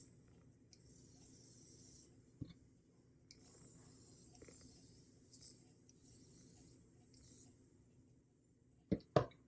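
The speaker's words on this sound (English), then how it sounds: "I spray a little bit." An airbrush spraying paint onto a quarter-scale Wolverine figure, with several soft hissing bursts of air separated by short pauses, followed by a couple of sharp clicks near the end.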